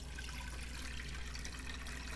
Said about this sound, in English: The first thing you do is add water.